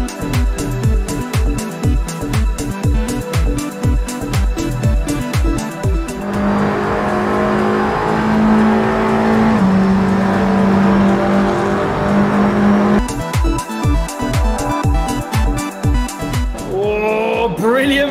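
TCR touring cars race at Le Castellet in a sim racing game, their loud engines revving and droning through gear changes. Tires squeal as the pack jostles, with brief commentary over the noise.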